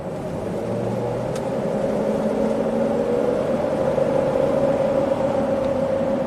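Ford Escape V6 engine running with a misfire, a steady close drone with a faint uneven shake and no talking.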